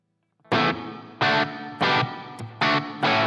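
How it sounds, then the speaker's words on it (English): Electric guitar with a light crunch tone run through a reverb pedal in a Blackstar JJN 50 amp sim, five loud strummed chords with short reverb tails between them, played alone. "Here's another reverb pedal, so if you don't like the reverb on the amp,"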